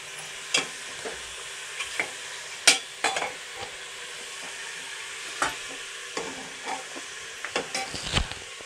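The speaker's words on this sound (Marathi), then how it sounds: "परतून घेते मटणाला" Mutton sautéed in a pan for village-style kala mutton, with a gentle background sizzle and sharp, irregular spatula knocks and scrapes against the pan, up close with no voices.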